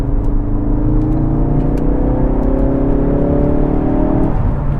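A Ford Focus RS accelerates hard during an overtake, its engine note climbing steadily in a loud, close, sustained rev before dropping off sharply near the end.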